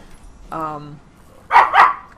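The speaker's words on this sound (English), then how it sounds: "I gave you guys bones so you would chew on the bones and not have to bark." Puppies bark indoors in a quick burst: a single tonal yelp followed by two sharp, loud barks close by, with quiet between them.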